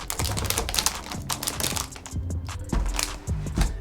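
A Melgeek Mojo 84 keyboard comes out of its packaging with a dense run of close clicks, taps and clacks from the case and keys as it is handled.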